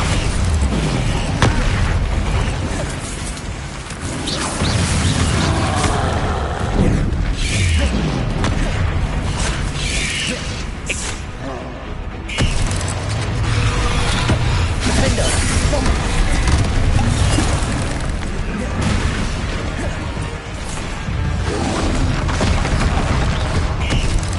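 Loud bursts of spell explosions from the Bombarda spell echo through frantic combat in the Hogwarts Legacy video game, with booms and crashes piling up amid dense battle noise and shouted voices over nearly half a minute.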